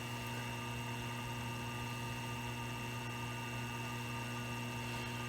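A wood lathe with a bottle stopper on the bed and a UV-resin finish gives off a steady, even electrical motor hum with constant tonal drone and no speech.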